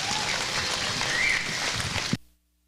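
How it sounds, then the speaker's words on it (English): Dense applause from an audience at the Rodeo Austin livestock show steer competition, a steady broadband wash of many hands that stops abruptly after about two seconds, leaving silence. "Let's give Kendall and all of these exhibitors a big round of applause"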